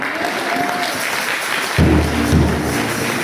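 A church congregation applauds at a morning service, with a broad wash of clapping and crowd noise that swells in two brief louder bursts near the end.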